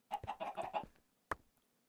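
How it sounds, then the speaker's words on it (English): Minecraft chicken in Sky Factory 3 clucking in a quick burst of several close, clear squawks, followed after a short pause by one more single cluck, with no talk. "Trying to kill her chicken."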